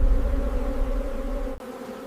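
A vast underground colony of honeybees swarming around their queen hums with a steady, dense buzzing drone, close and continuous, dipping only for a brief instant near the end.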